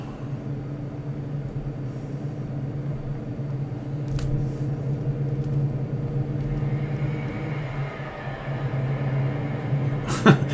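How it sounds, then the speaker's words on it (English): Traffic rumbling through a tunnel in Euro Truck Simulator 2, a steady low droning hum with reverberant whooshes as vehicles pass, one brief bright swish near the end, no talking. "Coming through the tunnel, I could hear the cars echoing like you would expect in a real tunnel"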